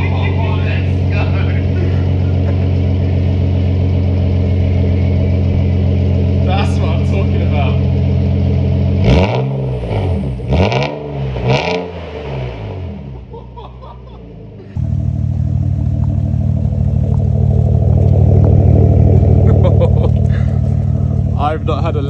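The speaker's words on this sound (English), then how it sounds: "here's the first start-up of my Skyline with a BLITZ Nur Spec cat-back exhaust" A Nissan R34 Skyline fitted with a BLITZ Nur Spec cat-back exhaust sits running loudly near the microphone, with a steady engine drone, a brief swooping rev in the middle, then a deeper, louder idle settling in.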